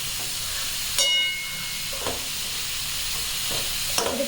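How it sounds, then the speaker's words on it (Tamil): Mushrooms cooking in a pan hiss with a steady sizzle while a spoon stirs them in separate scraping strokes every second or so, close by and without talk. "இதை கிண்டிட்டு நல்லா இதை கவனிச்சு மஷ்ரூம் போடணும்"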